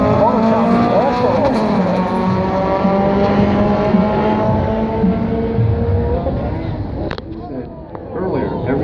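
Race cars running down a drag racetrack, loud engine drones with rising and falling pitch as they rev and pass, a voice talking over much of it.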